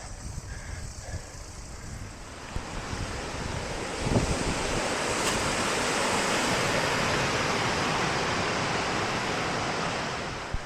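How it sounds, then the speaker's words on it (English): A small waterfall in the Central Vietnam Highlands gives a steady, full rushing hiss that swells gradually and holds unbroken, nearby and fairly loud, with no voices. "Nice little waterfall"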